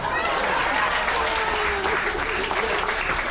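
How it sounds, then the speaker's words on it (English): An audience at a percussion comedy show aboard the Disney Fantasy cruise ship breaks into loud, sustained applause, a thick continuous wash of clapping with a voice calling out over it. "let's give Pat a round of applause."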